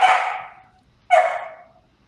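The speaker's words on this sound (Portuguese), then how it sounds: "É seu cachorro?" A dog gives two sharp, loud barks about a second apart, close by with quiet in between.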